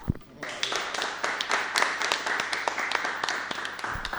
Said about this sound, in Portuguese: Eu queria somente uma salva de palmas para o podcast de hoje